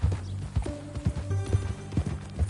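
Horse hooves clip-clopping at a steady walking gait in the video game Red Dead Redemption 2, close and fairly loud, with a low tonal hum and music-like drones running beneath the repeated beats.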